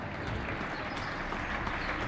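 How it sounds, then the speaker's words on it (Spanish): Applause for health workers from balconies along an avenue in Getxo, a faint, distant, continuous wash of clapping mixed with low street rumble. "sesión de aplauso a los sanitarios."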